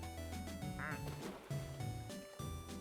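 Rubber ducks quack repeatedly in the Placid Plastic Duck Simulator video game, their squeaky calls sitting over steady, calm background music with no talking.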